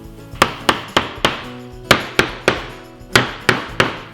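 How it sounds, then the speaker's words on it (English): A hammer drives a glued wooden tongue into a groove cut in a wooden bar, giving about twelve sharp, loud, close woody strikes in quick, slightly uneven bursts with short pauses, no voices. "now I'll add a little glue and hammer in this tongue."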